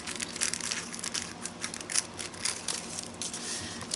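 Scissors cut through a nail-art sheet in a quick series of soft crisp snips and crinkles, close and quiet, with no talking.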